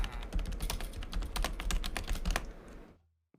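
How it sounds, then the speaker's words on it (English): Mechanical computer keyboard clattering with fast, dense, close keystrokes for almost three seconds before stopping abruptly into silence. "Is my keyboard really that loud? Like, if I type, like..."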